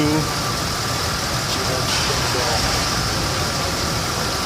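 A car engine idling steadily during on-car fuel injector cleaning, a constant loud mid-range hum that stays even throughout the short stretch.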